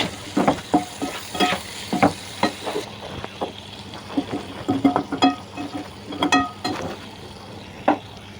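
Small fish frying in a pan on a gas stove, with crackling bursts of oil and scraping stirs in an irregular rhythm, close and fairly loud.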